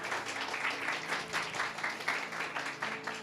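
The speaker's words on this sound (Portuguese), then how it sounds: "Palmas para o Pedro" Audience applause at a Portuguese-language church gathering, a moderate wash of clapping lasting a few seconds, fairly even and somewhat distant, with no voices over it.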